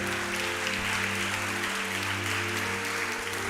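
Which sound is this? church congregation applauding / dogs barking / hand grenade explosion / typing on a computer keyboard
church congregation applauding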